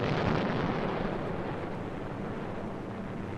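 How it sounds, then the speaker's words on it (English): Heavy rumbling roar of 500-pound general-purpose bombs dropped by heavy bombers, a dense, continuous barrage of distant explosions blending into one loud low wash with no voices. "dropping full loads of 500-pound general-purpose bombs"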